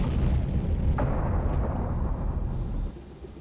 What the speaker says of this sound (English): They were not dropping bombs, they were dropping depth charges.